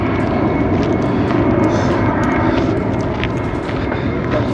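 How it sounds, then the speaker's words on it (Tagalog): An airplane roaring overhead near a Barcelona hotel, a steady, loud broadband rumble that holds for the whole stretch with no talking. "May palaging may aeroplano dyan."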